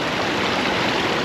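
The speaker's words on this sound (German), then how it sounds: "Weil der Bach ziemlich wild ist, also da kommen überall so Wellen rechts, links reingepeitscht." A wild mountain stream during gold panning, with waves slapping in from both sides; a steady, loud, close rush of churning water fills the whole moment without a break.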